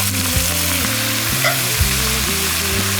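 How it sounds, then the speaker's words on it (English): An onion sizzles and crackles in hot oil in a black iron pot while Cajun rice and gravy is cooked, a steady loud frying hiss with a low hum beneath and occasional sharper pops. "if you stick an onion in there and it starts sizzling and crackling."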